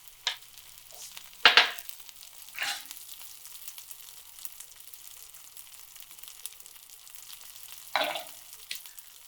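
Shallots frying in vegan butter in a pan, a quiet continuous sizzle broken by a few louder scraping stirs.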